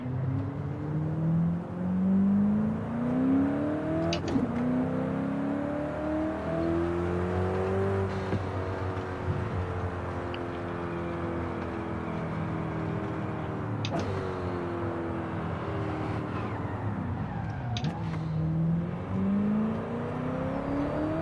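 Car drifting in the Forza 5 racing game, its engine whining and revving steadily with pitch sweeping up and down over a constant loud tire-and-motor drone, briefly reversing direction, with no talking.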